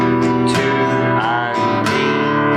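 Guitar strumming through a progression of sustained chords, each change bright and ringing, played close and alone with no talk.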